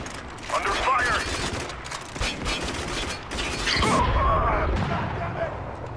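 Gunfire in the video game Spec Ops: The Line: bursts of rapid automatic shots and loud cracks fill a chaotic firefight, while voices shout over the shooting.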